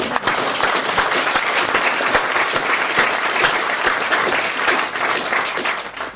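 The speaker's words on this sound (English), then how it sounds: "can everyone please join me in giving Shannon a round of applause" A large audience gives Shannon a dense, loud round of applause at a business talk. The clapping is sustained and even, with no break for the full six seconds.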